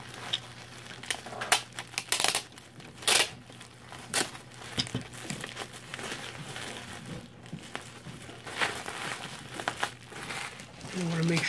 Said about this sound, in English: And I roll up my mug in my bubble wrap.